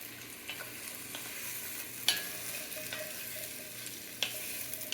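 Onions and garlic stirred in a pot for a green curry lentil and pasta soup, a steady low sizzle broken by a few sharp scrapes and clacks of the spoon, close and alone.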